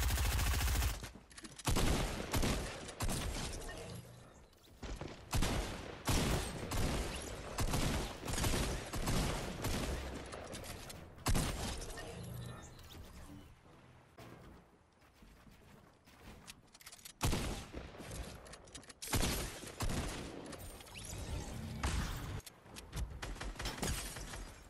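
Gunfire in a video game arena match crackles in rapid, loud bursts with sharp shattering hits, broken by short quieter gaps, with no talking in the clip.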